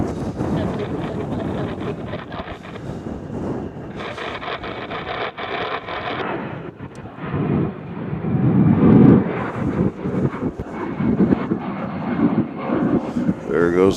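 A plane passes at Cincinnati/Northern Kentucky International Airport (CVG) on a cold, windy day, its landing gear lowering, a broad roar that swells near the middle under steady wind buffeting the microphone.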